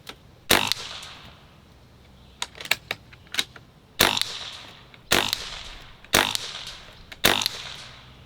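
Sharp .22 caliber airgun shots at a target, comparing a Barra 1100z and a Beeman Chief with heavy pellets: six loud, distinct cracks spaced irregularly, each followed by a short ringing tail, with faint smaller ticks and clicks between them.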